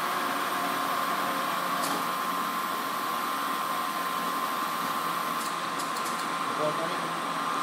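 A 3-inch Supermill horizontal table type boring mill runs steadily in reverse, a constant mechanical drone with a sustained tone and faint hiss, broken only by a few brief ticks.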